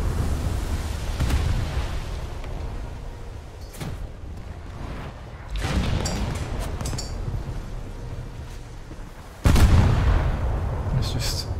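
Naval guns thunder in a World of Warships battle, with heavy booming salvos and blasts over a constant rumbling game soundscape, one especially loud volley near the end.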